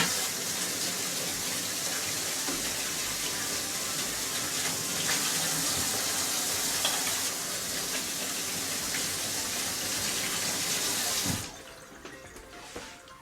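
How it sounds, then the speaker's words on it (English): Tap water runs in a steady, loud gush for about eleven seconds during a quick rinse while making a jalapeño casserole, then shuts off, leaving quieter drips and handling noise. "Now I'm going to do a little quick rinse."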